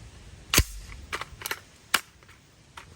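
Sharp reports from a 7.5-inch 300 Blackout AR pistol, a few separate cracks spaced irregularly across the moment, close and loud with quiet gaps between.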